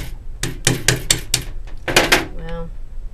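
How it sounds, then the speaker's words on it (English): A hammer taps nails into wooden beehive frames, the nails being the wrong size: a quick run of about six sharp, close knocks, then a short pause and a brief voice. "hammer it into place"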